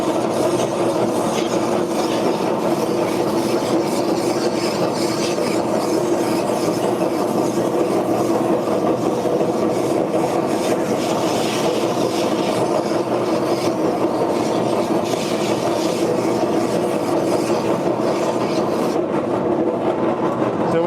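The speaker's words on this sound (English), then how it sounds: "So when you're sanding something, you always want to overlap your work." Steady, continuous rasping of hand sanding on a handcrafted wooden skateboard deck, a close, even scrubbing texture that holds without pause from start to finish and carries no talk.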